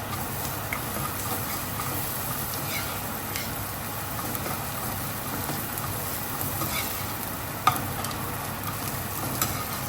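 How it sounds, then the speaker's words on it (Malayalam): Sautéed onions with ground black pepper stirred in a pan for a Kerala-style beef stew: a steady soft sizzle with scraping stir strokes throughout, one sharper clink near the end, no voices. "അതിലോട്ട് നമുക്ക് കുറച്ച് കുരുമുളക് പൊടി ഇട്ട് ഒന്ന് ഇളക്കി കൊടുക്കാം."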